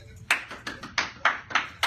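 Scattered hand claps from a small crowd welcoming a speaker, a handful of separate bursts spaced roughly evenly, fairly close and moderately loud, with no talking over them.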